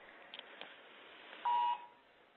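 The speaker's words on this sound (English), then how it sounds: "it's on, it's giving me the Amber Alert." A smartphone sounds an Amber Alert tone indoors, a steady buzzing electronic drone overlaid by a brief sharp rising beep, moderately loud with no speech.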